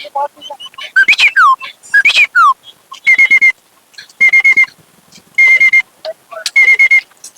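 A human voice mimics a car's reverse-gear beeper with a run of short, high, repeated beeps in evenly spaced bursts, mixed with whistle-like chirps.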